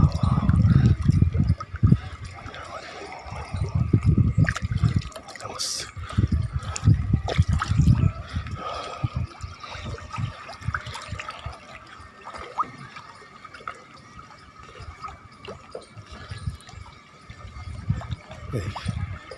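Water pours and trickles over a Shiva lingam set under water at a Hindu temple, a steady running splash with louder gushing bursts early on and softer flowing through the rest, no voices.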